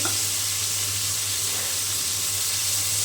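Pieces of fish fry in hot oil in a home kitchen pan, giving a steady, close, dense sizzle and hiss that holds unchanged from start to end, with no talking.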